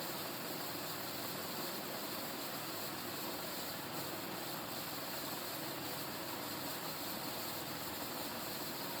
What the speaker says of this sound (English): This fan here, I would guess we're probably cranking around 260 RPM.